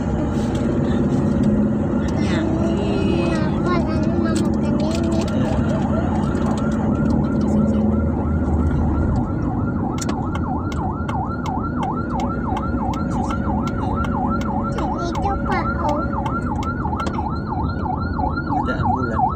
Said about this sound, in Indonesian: Ada ambulan. Dia lewat